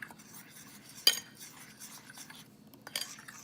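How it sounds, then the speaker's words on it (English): Keto chocolate muffin batter with heavy whipping cream mixed in a bowl, quiet clinks and scrapes of a utensil against the dish with one sharper knock, otherwise soft and close, no talking. "Mix this up really well."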